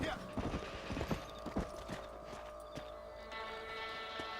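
Horse hooves clip-clop on the ground in the Western video game Red Dead Redemption, a series of moderately close, irregular hoof strikes that thin out into sparse steps, with faint background ambience.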